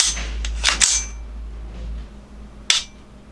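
Pistol trigger resetting as the shooter relaxes a finger: two sharp, close mechanical clicks about two seconds apart over a low background rumble, with no talking.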